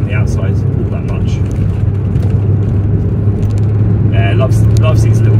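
A Ford Focus RS MK2 fitted with the Mountune MP350 upgrade driving on a country B road, heard from outside as a loud, steady engine drone that holds and swells slightly throughout.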